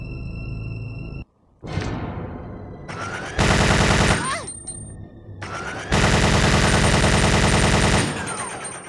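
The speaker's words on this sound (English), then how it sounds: "the Gatling gun just pretty much fires a wall of lead" Gatling gun firing in Resident Evil 2 video game: two long, loud bursts of extremely rapid, continuous fire separated by a brief pause, with a short sharp shot and ringing decay before them.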